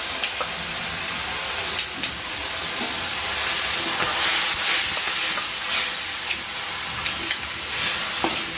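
A ground paste with onion, mint and coriander fries in a pan for a pok choi pasta, giving a continuous loud sizzle and hiss with light stirring clatter throughout and no talking.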